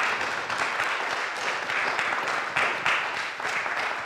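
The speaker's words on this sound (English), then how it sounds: "Can we give them a round of applause?" An audience at a book discussion event claps continuously at moderate volume, a dense and even patter with faint voices mixed in.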